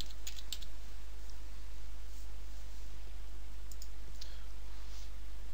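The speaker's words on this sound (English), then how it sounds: "we could type a comment here and just say just enable" Light computer keyboard typing as a comment is entered in Windows 7, a few soft quick keystroke clicks in brief bursts over a constant low hum and hiss, with no talk.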